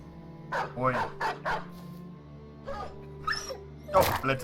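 A dog barks and yips in the video game Battle Brothers, a few sharp bursts spread across the moment, with someone talking over them.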